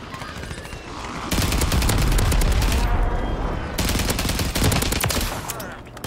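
Rapid bursts of automatic gunfire in a Warzone 3 battle royale match, loud and close, with dense rattling volleys, a brief lull, then more sustained firing.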